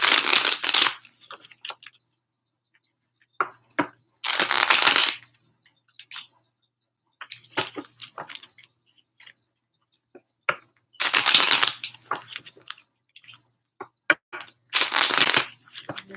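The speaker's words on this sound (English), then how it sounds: "One more shuffle like this" A deck of tarot cards is riffled and shuffled in several short, crisp bursts of fluttering, slapping card noise, close to the listener. Each burst is separated by quiet pauses and small taps as the cards are handled.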